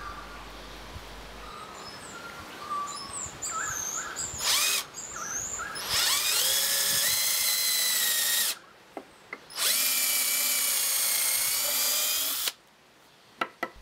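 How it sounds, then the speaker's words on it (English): A power drill bores 5mm pilot holes through wooden handscrew clamp jaws, whining in bursts that rise in pitch as the motor spins up, with short pauses and clicks between runs. "Get the drill started, then use the jig to align the drill straight."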